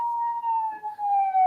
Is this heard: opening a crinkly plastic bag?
no